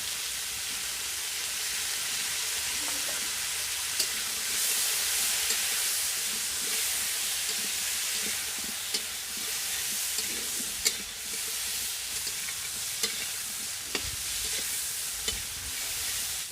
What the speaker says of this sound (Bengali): ফুলকপিগুলো লাল লাল করে ভেজে নেব আর ফুলকপি ভাজার সময় আস্তে আস্তে করে জাল দিতে হবে যাতে ফুলকপিগুলো পুড়ে না যায়